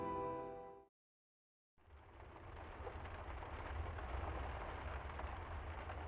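After a brief musical tone and a moment of silence, steady rain sets in within the game The Lion's Song, a soft continuous patter that holds evenly to the end.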